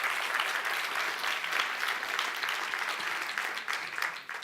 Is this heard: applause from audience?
yes